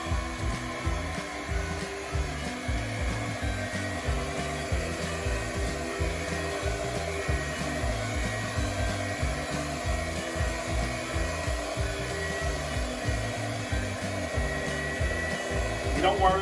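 An electric mixer whirs steadily while beating eggs one at a time into cream cheese pound cake batter, with a continuous fluttering motor hum at moderate level and no speech.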